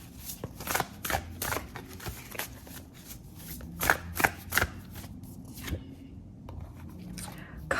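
Oracle cards being shuffled by hand in a quiet room, a run of crisp riffling bursts and soft flicks, some louder snaps, with faint background murmur and no clear talk.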